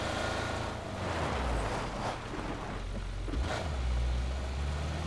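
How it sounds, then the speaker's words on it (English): A car drives in PlayerUnknown's Battlegrounds, its engine a steady low drone that rises and falls with revving, heard alone without talk. "Yeah, I'm hearing the car."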